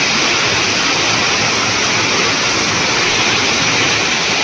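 A stream swollen with high water rushes past in a dense, continuous roar, loud and unbroken, with no talking.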